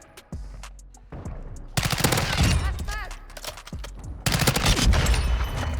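Rapid automatic gunfire from a Chimera rifle in Call of Duty Modern Warfare, loud sustained bursts broken by a short pause and reload clicks.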